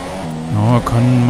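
Formula 1 cars racing in the video game F1 2017 at the Bahrain Grand Prix in Sakhir, a loud close engine whine that steps down in pitch twice as the car shifts and brakes for the corners.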